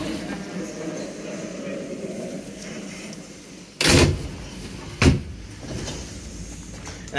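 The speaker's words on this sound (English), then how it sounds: "just want to give the slidey window slammy door thing a try" Passenger coach 11068 of an Intercity charter train at Euston, with a sliding droplight window and a slammed door: two sharp thuds a little over a second apart, loud and close, over steady background rumble and murmur.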